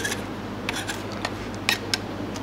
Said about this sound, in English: I'm just going to take that quickly and just cut it at more of an angle.